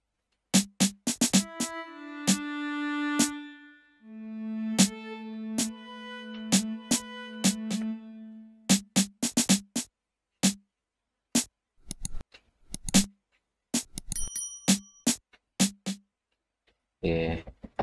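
Snare sample from an FL Studio remake of a beat: sharp, crisp hits in quick bursts and spaced patterns, alternating with sustained tonal synth notes, close and dry in a sparse pattern.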